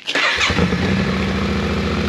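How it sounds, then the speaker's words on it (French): A Yamaha Ténéré 700 adventure motorcycle engine cranks and fires, then settles into a loud, steady, close-up exhaust idle with a regular low throb. "T'as cru qu'on allait s'abandonner sans que je te fasse écouter le joli bruit du pot d'échappement?"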